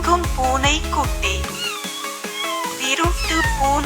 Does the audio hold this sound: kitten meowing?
yes